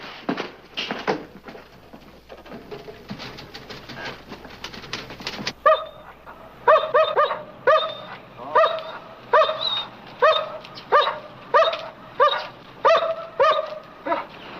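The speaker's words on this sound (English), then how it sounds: "Nice dog you got." A dog barks in a steady run of repeated, evenly spaced barks, fairly close and loud, following a few seconds of quieter ambient scene noise.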